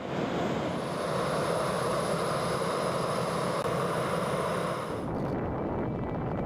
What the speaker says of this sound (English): In the H models, all 8 engines can be cart-started at once, drastically reducing the engine starting time.